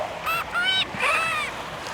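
A voice imitates a rooster with a few strained, rising crowing bursts, fairly close and loud.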